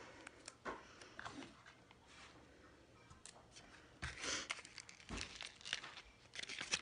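Sticker backing peeled and pressed onto a charcoal glitter eyeshadow pan for a custom palette, giving soft close-up crinkling and crackling rustles in several short bursts, quiet and without talk.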